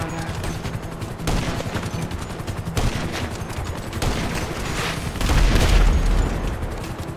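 Gunfire in GTA V during a five-star wanted shootout: dense, loud rapid shots and booming bursts overlap without letup, swelling into a heavier blast near the end.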